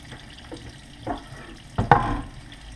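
Tap water runs intermittently while anchovy fillets are rinsed under it, soft splashes and trickles with a louder gush near the end.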